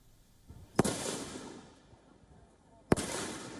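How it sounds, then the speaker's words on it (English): Two sharp gunshots crack out about two seconds apart at a makeshift shooting range deep in a Myanmar forest, each followed by a rolling echo that fades into the trees. "Gunshots ring out at this makeshift shooting range deep in the forests of Myanmar."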